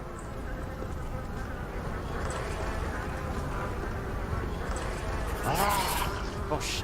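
Bees buzz constantly in a Pathologic game scene, a dense droning hum that holds steady throughout with a faint swell near the end.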